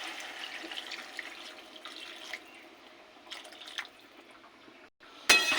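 Water is poured from a bowl into a pan of frying sajne data (drumstick stem) curry in a home kitchen, a steady faint trickling stream that stops abruptly and gives way to a louder sizzle at the end.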